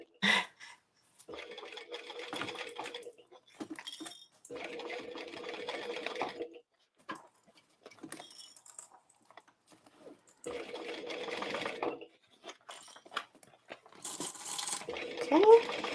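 Domestic-style sewing machine stitching fabric for a circle bag, running in several bursts of steady mechanical whirring separated by pauses, with light handling clicks between runs.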